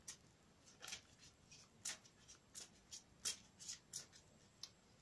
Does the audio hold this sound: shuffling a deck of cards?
yes